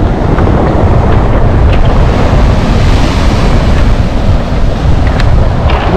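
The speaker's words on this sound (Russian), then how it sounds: "Там вот тут красивые волны." Strong surf breaks continuously on the shore at Lazarevskoye on a windy January day, a loud, dense roar of crashing waves mixed with heavy wind buffeting the microphone, with no voices.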